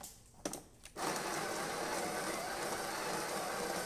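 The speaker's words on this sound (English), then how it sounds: "let's go ahead and test it, make espresso shot in it" A Breville BES870XL espresso machine pulls an espresso shot: after a couple of short clicks, the pump kicks in with a steady buzzing hum that runs on evenly and close by.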